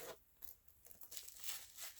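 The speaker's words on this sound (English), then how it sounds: "some more wrapping that I forgot about" Wrapping material crinkles and rustles faintly as it is pulled out of a Tory Burch Kira chevron chain wallet, a quiet papery crackle in short bursts.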